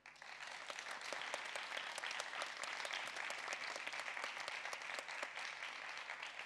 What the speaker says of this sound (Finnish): annetaan vielä huikeat aplodit kaikille tekijöille